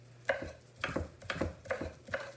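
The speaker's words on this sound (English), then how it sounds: "I'm just going to roughly chop it." Fresh basil being roughly chopped with a knife on a board, about five crisp, evenly spaced knife strikes, close and clear with no talk.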